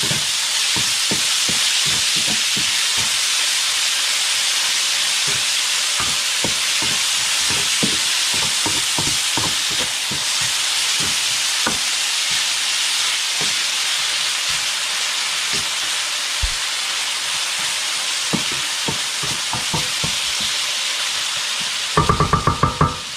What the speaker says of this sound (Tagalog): ayan natin maging golden brown din yung ating giniling para lumabas yung mantika